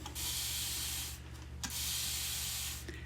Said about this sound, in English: you can spray it upside down and then just go back to normal.